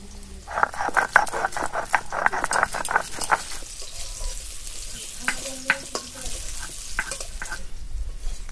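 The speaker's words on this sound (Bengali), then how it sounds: "এবার আগে সাদা সরষেটা বেটে দাও।" White mustard seeds are ground into a paste in a kitchen, with rapid rhythmic rubbing and scraping strokes close by that pause midway, then sparse clicks and scrapes follow; no speech.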